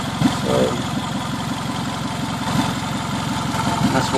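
A 2003 Toyota Camry running steadily on its first start after an engine swap, with a loud, rough exhaust rumble pulsing evenly throughout, close to the listener, with no clear speech over it.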